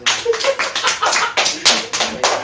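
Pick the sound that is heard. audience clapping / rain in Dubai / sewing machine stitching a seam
audience clapping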